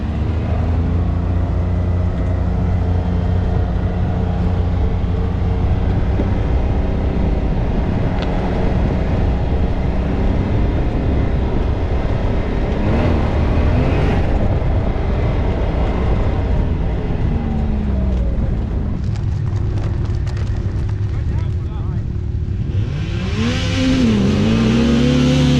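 Race vehicle engines at a Dirtfest event roar loudly and continuously at the race start, with revs climbing and falling, and one engine sweeping up sharply near the end.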